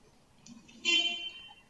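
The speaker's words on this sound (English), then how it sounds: "He honks at him." A car horn sounds in a short blast, fairly faint and slightly distant, following a brief quieter toot.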